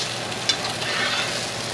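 A trout fillet fries in a pan with a steady, close hiss and crackle of sizzling fat, with one brief tick near the start and no talking.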